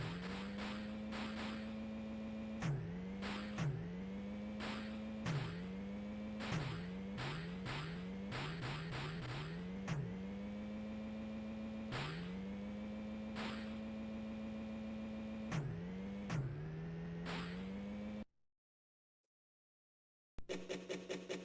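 Car engines in an arcade driving game, revving in repeated surges with tire squeals and skids, loud and continuous before cutting to silence near the end.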